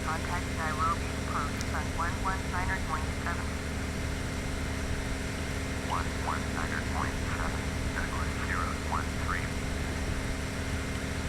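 Steady, loud drone of a DC-3's piston engines in flight in Flight Simulator 9, a constant hum running the whole time with brief chirping sounds scattered over it.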